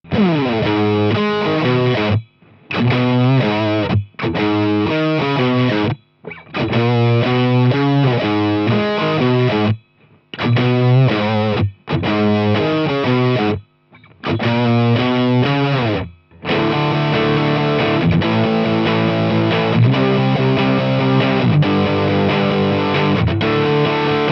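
Distorted Harley Benton TE-62LA electric guitar playing chords and riffs with short pauses between phrases, loud and saturated, ending in a sustained section.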